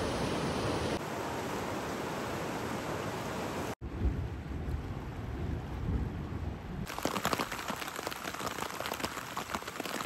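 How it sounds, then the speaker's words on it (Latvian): A thunderstorm closing in over a river while fishing: steady rain-like noise with low, rolling thunder rumbling throughout, broken by a sharp cut partway through, then denser hiss continuing to the end. "Un tuvojās negaiss."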